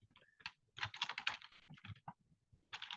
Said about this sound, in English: I'm going to type response